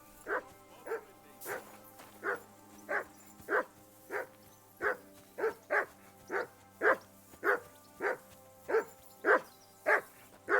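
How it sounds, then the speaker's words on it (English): Dog barking in Kingdom Come: Deliverance II, a steady run of about eighteen evenly spaced barks over ten seconds, moderately loud and close above a low background hum. "Call off that damn dog before he wolfs down the last of our mates."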